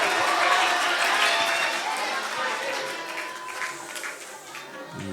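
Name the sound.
audience applause for a newly arrived speaker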